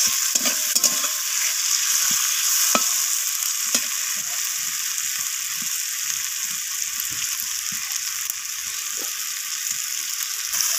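Potatoes, onions and tomatoes fry together in a pan for a spicy surmai fish curry, a constant bright, hissing sizzle with small low thumps from stirring and no voices.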